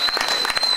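A church congregation applauds during a French-language sermon, a steady dense patter of many hands clapping close and loud, with faint voices mixed in.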